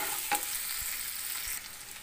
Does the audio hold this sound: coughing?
no